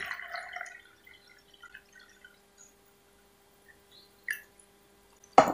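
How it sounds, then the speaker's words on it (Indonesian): Tea poured into a 22 oz plastic cup for a boba drink, a brief splash and trickle at the start that fades into sparse drips, with a couple of faint clinks and a sharper knock at the end. "Oke, saya tuangkan ke dalam cup seperti ini."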